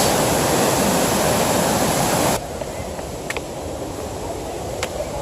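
Loud, steady roar of rough rushing water at Athabasca Falls for a couple of seconds, then it suddenly drops to a quieter, more distant wash of calmer water.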